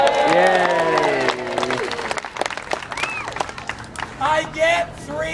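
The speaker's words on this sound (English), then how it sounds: "Everybody clap" An audience breaks into scattered clapping at a live show, with sharp, uneven claps under a performer's voice and some cheering.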